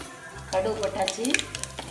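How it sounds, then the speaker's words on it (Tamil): Mustard seeds splutter in hot oil for a Nagercoil-style onion pachadi, with scattered sharp pops and crackles over a quiet, steady sizzle. "கடுகு கொட்டியாச்சு"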